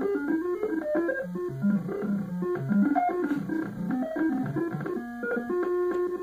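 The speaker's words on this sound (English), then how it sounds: "You'll see the introduction song in just a minute here, and it sounds quite different than what I heard back in July of 2012." A faulty Commodore 64 plays a game's introduction song, a bright electronic chiptune melody of stepping synth notes over a bass line, its sound noticeably altered by the machine's fault.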